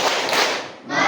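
Schoolchildren in an elementary science classroom perform a rhythmic clapping routine, a short burst of loud, close group claps with a brief dip before the clapping resumes.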